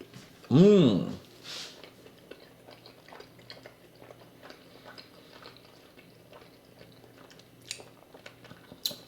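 Someone takes a bite of pizza and chews, with soft close crunching and mouth sounds in a quiet room after a brief burst of speech.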